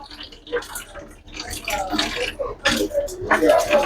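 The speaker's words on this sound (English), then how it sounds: "draining some of this out, some of the water out of the line here" Water draining out of a leaking household water line during a leak repair, a broken splashing and trickling that rises and falls in bursts, with a person talking over it.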